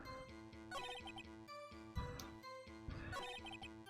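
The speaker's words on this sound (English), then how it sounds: "Shut up, phone." A telephone rings in the Phoenix Wright video game, a repeating electronic ringtone with bright, tinkling tones that pulse in a steady rhythm over the game's background music for about four seconds, with no talk.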